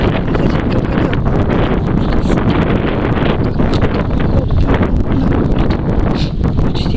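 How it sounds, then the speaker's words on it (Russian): A strong spring wind blows outdoors in cold weather, battering the microphone with a loud, steady, unbroken roar of buffeting and rustle that never lets up. "Ветер на улице."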